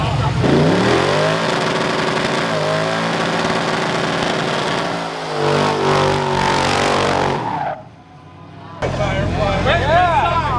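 Car performing a burnout at a car meet, a loud roaring engine with rising and falling revs over long skidding tire noise, crowd chatter around it, then a brief lull before another high revving surge.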